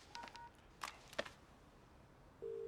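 Touch-tone keypad beeps as a phone number is dialed, three short tones spaced apart, then a steady ringing tone begins at the end.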